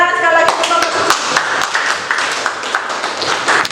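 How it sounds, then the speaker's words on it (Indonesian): Students in a classroom clap for a group that just finished its presentation, a brisk wave of hand claps under overlapping voices. "Tepuk tangan sekali lagi untuk kelompok"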